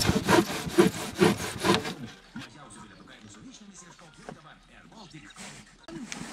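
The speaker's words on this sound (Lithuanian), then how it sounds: "Jo pjūklas specialus." A saw cuts wood during foundation-building work, giving about five loud, rhythmic back-and-forth strokes up close. The sawing then stops and quieter voices and light handling noises follow.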